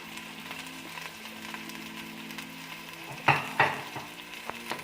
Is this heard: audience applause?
no